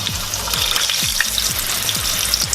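A Guyanese egg ball fries in hot oil, a loud, close, continuous crackling sizzle with small pops and faint periodic low thumps throughout.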